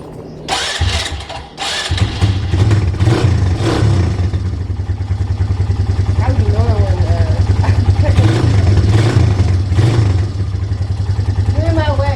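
A 2005 Polaris Phoenix 200 ATV engine cranks briefly, catches and settles into a loud, steady close-up idle with rhythmic putter, while voices talk over it.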